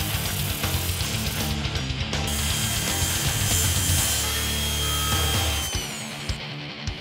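A power tool grinding and cleaning up TIG weld faces on a metal hammer head, a loud, continuous whirring abrasion that shifts pitch and then tapers off at the end.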